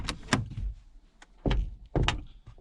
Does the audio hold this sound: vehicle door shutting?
yes